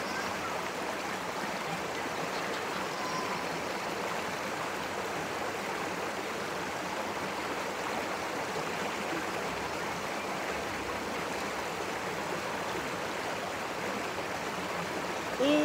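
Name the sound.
river current flowing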